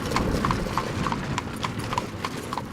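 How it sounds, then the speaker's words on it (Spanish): Steady clip-clop of two black horses' hooves pulling a lone carriage up a sloping street, the rhythmic hoofbeats close and continuous over a dense rumbling background. "Un solitario carruaje tirado por dos caballos negros asciende la cuesta de Cowgate"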